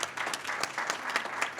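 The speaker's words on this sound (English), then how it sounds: "Maybe applause." An audience at a candidate forum in a hotel claps steadily for a short burst, a dense patter of many hands at moderate distance.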